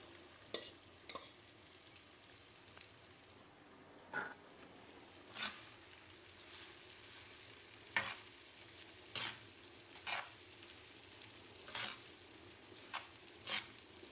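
Cooked rice being stirred in a pan for egg fried rice: soft frying sizzle holds steady throughout while a spatula scrapes and taps the pan in spaced strokes about once a second, fairly quiet and close.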